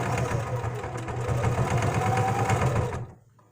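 A sewing machine runs a straight stitch and then a reverse stitch. Its steady, loud mechanical whir carries on for about three seconds and then stops abruptly.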